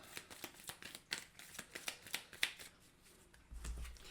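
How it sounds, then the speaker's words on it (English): Cards from the Marvel United board game deck are shuffled up close, a run of crisp riffling snaps and flicks in uneven bursts, ending with a soft thump as the deck is squared. "Shuffle up Juggernaut."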